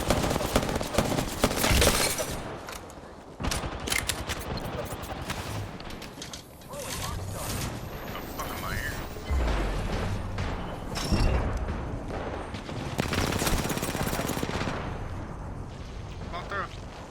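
Gunfire in Apex Legends, rapid bursts of shots and sharp cracking impacts mixed with explosions and shattering, dense and loud, with a voice talking over the action.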